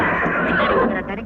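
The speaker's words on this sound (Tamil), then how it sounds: "குதிரையா?" A horse whinnies loudly and steadily for about a second, close by, in a village setting tied to a local horse race, with some voice-like tones mixed in.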